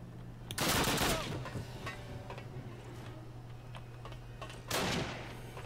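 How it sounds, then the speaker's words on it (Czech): Gunfire in the Call of Duty video game comes in two short, faint bursts of rapid shots, separated by several seconds of quiet background hum. "A netuším, kdo tady střílí."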